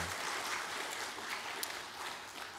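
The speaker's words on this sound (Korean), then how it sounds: "귀한 대원 한 분 한 분에 박수 한번 보내겠습니다" A church congregation at a Sunday service applauds the choir after a hymn, a soft, even wash of clapping heard from some distance, with no talking.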